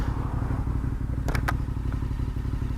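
A KTM 1290 Super Adventure motorcycle with its emissions system deleted and O2 sensors blocked idles nearby. It gives a steady low, pulsing engine thrum with a few brief clicks and clatters on top.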